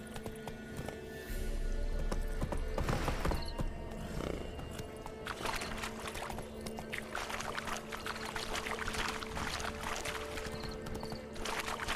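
Roach the horse trots in The Witcher 3 game, with steady hoof clip-clops and occasional snorts over ambient outdoor game sounds, moderately close.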